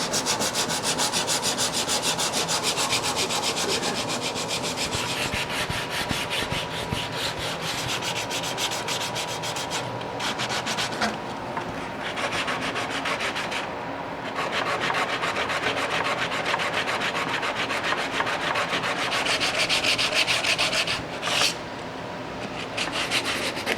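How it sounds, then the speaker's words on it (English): A teak garden bench being sanded: a continuous, close, gritty rubbing rasp that holds steady for over twenty seconds, broken only by a few short pauses, with no voices. "I'll turn it over to the back, and then I'll get it from underneath as well to make sure we get everything sanded."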